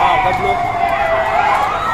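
A fire truck siren wails loud and unbroken at a residential fire in San Andres, Manila, its rising and falling tone filling the scene with no pauses.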